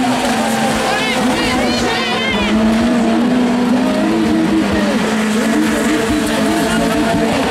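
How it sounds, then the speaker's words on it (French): Race cars pass during a circuit race, one of them a BMW. Loud engine notes rise and fall continuously while a commentator talks over them. "ferme la marche le 69, la BMW de Patrick François"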